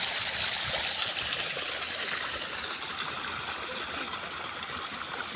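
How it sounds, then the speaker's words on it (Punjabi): Steady rushing and gurgling of irrigation water flowing continuously into a freshly planted garlic field, fairly quiet and even throughout, with no voices. "ਹੁਣ ਲੱਗੇ ਪਾਣੀ ਲਗਾਉਣ"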